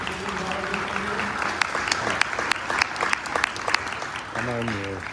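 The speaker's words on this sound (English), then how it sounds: "give these members of our committee a round of applause for their efforts and their work" An audience in a hall bursts into sustained applause, a dense clatter of many hands clapping, with a voice speaking over it at the start and again at the end.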